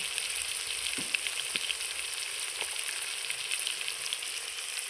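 Chicken pieces sizzle steadily with onions in a pan for a kosha curry, a dense close-up frying hiss with a few soft utensil taps and no voices.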